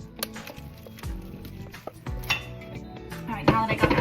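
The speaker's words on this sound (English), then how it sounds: "now that I got that bowl scraped out" A spatula scrapes granola bar mixture out of a mixing bowl, giving intermittent clinks, knocks and scraping strokes against the bowl, fairly close and moderately loud.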